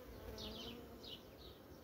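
A queen honeybee pipes inside a hive that may swarm again, giving faint, short rising tones in separate bursts over a low colony hum, with no talking.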